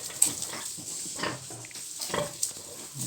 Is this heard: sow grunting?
yes